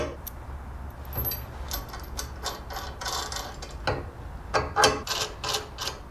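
Ratcheting metallic clicks in quick bursts as a nut is tightened onto a turn signal mount during a license plate kit install on a Rebel 1100 motorcycle, close and fairly loud, with no talking.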